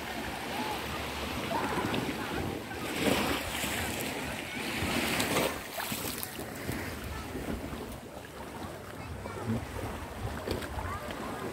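Sea waves roll in at high tide on a white sand beach, a continuous wash of surf with swells peaking every few seconds, mixed with wind noise.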